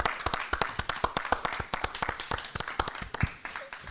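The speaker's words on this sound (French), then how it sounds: "On l'applaudit bien beaucoup" Audience applause at a festival broadcast: a small group claps in a quick, uneven patter of distinct, close hand claps, moderately loud and unbroken, with no talking.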